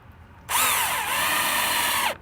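A power drill drives a screw to fix floor insulation above an unheated space, whirring loudly up to speed in one close, sustained burst of under two seconds before stopping abruptly.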